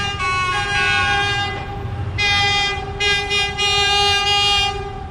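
A train pulls into the Don Mueang airport station in Thailand with a loud, sustained horn-like tone sounding in several bursts over continuous rail rumble.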